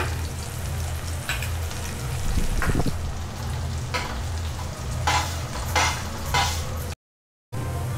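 Onions fry in ghee in a kadhai, a continuous close sizzle broken by repeated scraping stir strokes of a spoon against the pan, with a brief silent gap near the end.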